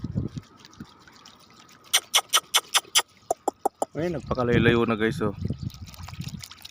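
Water is poured into a container for a hungry stray dog in the desert, first a series of sharp rhythmic splashes, then a steady gurgling fill, close by with someone speaking briefly.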